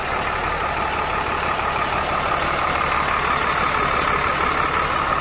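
A Cummins diesel idles in a 2006 Ford F650 XL truck, a steady, close, continuous rumble with a constant hum and no voices over it.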